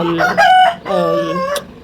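Chicken giving two loud, close clucking calls, the second longer and drawn out, with no other sounds around it.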